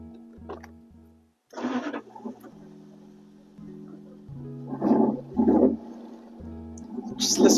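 A car engine cranks and catches, then revs in several loud bursts before settling to a rough idle, heard close and alone.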